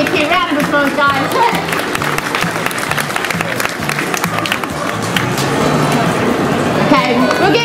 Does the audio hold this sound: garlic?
no